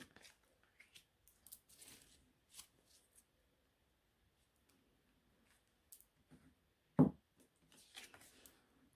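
Tarot-style cards are shuffled and drawn for a reading, quiet scattered papery riffles and slides, with one louder snap near the end, in an otherwise silent room.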